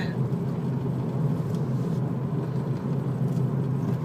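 Steady low engine rumble inside a moving car, continuous and even, with faint voices in the cabin.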